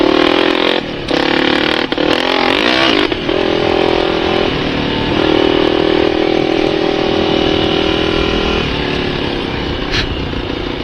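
A Honda XR400R dirt bike roars loud and close through the desert, its engine revving and shifting pitch with brief throttle drops and a constant buzzing drone.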